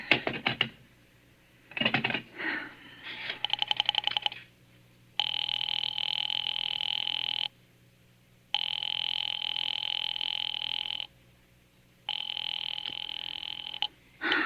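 Radio drama telephone effect: a few clicks and rapid dial whirs, then a steady busy signal sounding in long, evenly spaced pulses with gaps between, loud and close with no voices.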